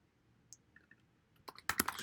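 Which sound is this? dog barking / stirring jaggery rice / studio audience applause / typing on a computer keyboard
typing on a computer keyboard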